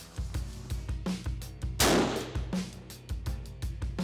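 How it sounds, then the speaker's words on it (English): Rifle shots fired in quick succession at a Savage Arms range, a rapid run of sharp reports with a louder close blast near the middle, no talk. "I can shoot it left-handed"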